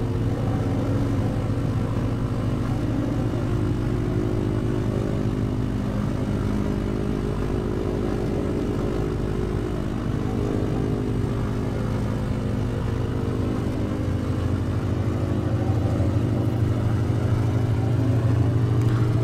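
Piston aircraft engine idling and taxiing onto the runway in a flight simulator, a steady low drone with a constant hum that runs unbroken and fairly loud throughout.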